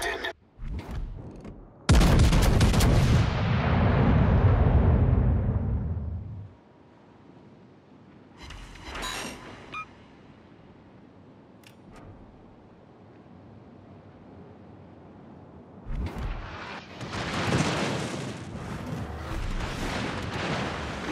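Naval guns in a video game firing at an enemy battleship: a loud blast with a long rumbling tail, then scattered distant booms and later another burst of heavy firing, with brief game voice callouts between.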